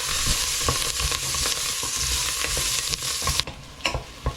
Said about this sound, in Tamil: இந்த மஞ்சள் வந்து எண்ணெயிலேயே ஃப்ரை ஆக வேணும். அதோட பச்சை மிளகாய் அண்ட் சின்ன வெங்காயம்.